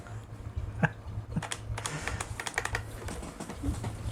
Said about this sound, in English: my keyboard is not fully working.